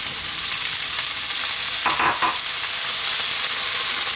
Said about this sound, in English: Next step is I'm going to add in my potatoes